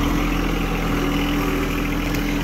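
A new tractor's engine idles steadily, a constant low mechanical hum with a buzzing vibration and no voices.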